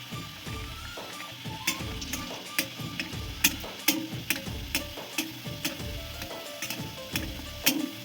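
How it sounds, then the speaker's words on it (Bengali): Paneer kachori deep-frying in hot oil, a continuous close sizzle with regular clicks and taps of a utensil stirring, moderately quiet and without talk. "একইভাবে সবগুলো ভেজে রেডি করে নেব।"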